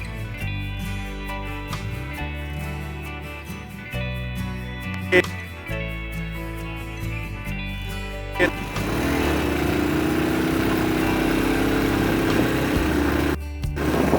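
A Honda 70cc motorcycle engine runs close by in gear, a steady low putter that rises to a louder, rougher drone partway through as it pulls away.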